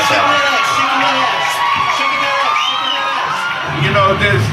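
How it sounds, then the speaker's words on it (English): A large excited crowd of fans screams and cheers outdoors, loud and continuous with shrill shouts and whoops rising and falling throughout. "They're screaming like they're soccer fans."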